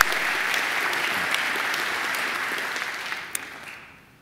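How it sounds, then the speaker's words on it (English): Graduation ceremony audience at Macquarie University giving a sustained round of applause, steady dense clapping filling the hall before tapering off in the final second. "I think Mr. Nicholas deserves another great round of applause."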